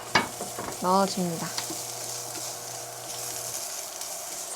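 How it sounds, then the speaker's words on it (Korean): Julienned carrots stir-fry with a pinch of salt in a pan, sizzling and scraping close by, while a voice speaks briefly at the start. "당근 아까 채 썰어 놓은 거 넣어서 살짝 볶아주고"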